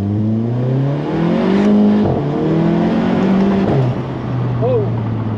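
A modified Volkswagen GTI accelerates hard from inside the cabin, its engine note rising steadily through a gear with brief dips at shifts, loud and continuous, while a voice talks over it.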